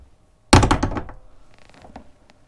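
A cabin door on a Sunseeker Predator 55 Evo yacht swinging open into the master cabin, a sudden loud knock and thunk followed by a short decaying rattle and a few lighter taps, close by.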